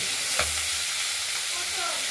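Snakehead fish pieces fry in oil in a kadai, a steady close sizzle with a brief stirring clatter early on, no voices.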